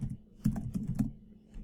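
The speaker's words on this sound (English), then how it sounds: "you could take that and you could type it in here." Fingers tap a computer keyboard while a web address is entered, a quick irregular run of light clicks close by with no speech.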